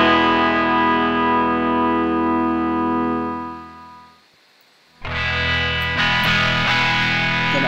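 Electric guitar played through a browser-based WebAudio amp simulator with heavy drive distortion, a loud sustained chord fading into near silence before a sharp new strummed chord rings out, thick and buzzy.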